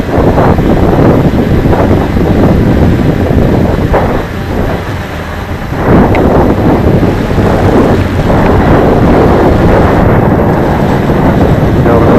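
Heavy wind buffets the microphone during a windy-day flight of a Cheerson CX20 quadcopter drone, a loud, constant roar with a brief lull partway through and no clear speech.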